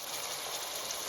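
Steady rain falls around an outdoor cooking spot where an Ital roots curry and callaloo simmer, a dense even hiss filling the moment with no voices.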